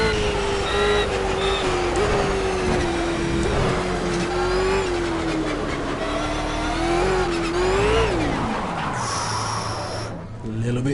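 A Lotus 72D race car engine in Project Cars screams under heavy throttle on the Nordschleife, holding a loud, steady high-pitched drone with small pitch wobbles. Near the end the pitch falls sharply as the revs drop.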